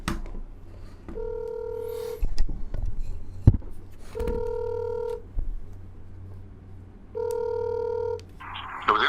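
A telephone line plays three long, steady ringing tones at even intervals while a call is placed, with quiet pauses and small clicks between them.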